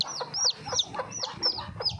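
A hen with two young chicks clucks and calls in a quick run of bright, close, repeated notes, about five or six short bursts over two seconds with no talking.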